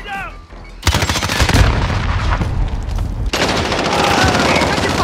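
Video game gunfire in Call of Duty: Modern Warfare, loud rapid automatic bursts and shots crackling almost continuously after a short quiet start, mixed with booms and brief voices.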